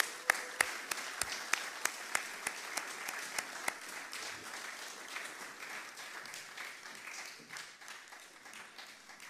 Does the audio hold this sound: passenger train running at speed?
no